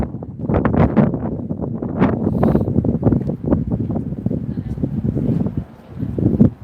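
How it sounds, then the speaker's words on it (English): Gusty, cold wind buffets the microphone in rough, rumbling bursts among tall buildings on Michigan Avenue, Chicago, loud and close, with a faint voice underneath. "it's already getting windy and cold"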